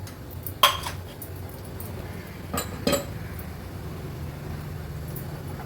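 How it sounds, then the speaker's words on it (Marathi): A kadhai pan is set down on a gas stove with a sharp metallic clank, then a couple more clinks follow over a low steady background hum. "मुशीचं थपथपीत कालवण बनवण्यासाठी गॅसवर आपण ही कढई ठेवली आहे"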